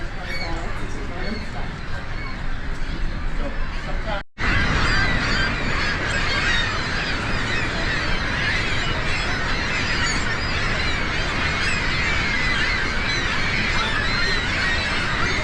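Flocks of geese honking and calling steadily beside Niagara Falls, a dense continuous chorus mixed with outdoor crowd noise and roaring water, with a brief cut partway through.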